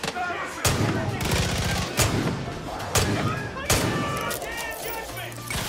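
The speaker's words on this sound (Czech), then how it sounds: "Myslím, že to dává takovou ránu ten Magnum" Magnum revolver gunshots in the video game Far Cry 5 ring out as four loud, sharp blasts spaced about a second apart, each with a booming tail over a busy game background.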